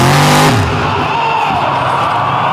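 An outlaw monster truck launches on a drag run at the 2022 Canfield, Ohio drags, a loud engine roar dropping from a high rev into sustained, close, gritty mechanical noise.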